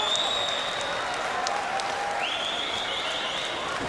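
Badminton crowd at the 2015 US Open Grand Prix Gold final roars with sustained cheering and applause after a trick shot wins game point, loud and continuous throughout, with a whistle-like tone gliding over the din.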